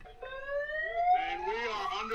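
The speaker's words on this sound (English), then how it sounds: "Buzzer goes off." An electronic buzzer sounds at the start of a game, a rising, tonal alarm-like blare lasting about two seconds, fairly loud and alone.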